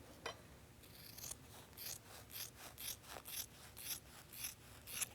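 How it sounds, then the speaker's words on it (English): Scissors snip through quilting fabric, trimming the seam allowance on a sewn pillow: a quick run of soft, crisp cuts in an irregular rhythm, close but faint, with no talk. "And I'll just trim this one quickly."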